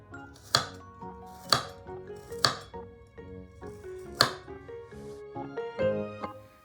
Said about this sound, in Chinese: 1粒大蒜切片。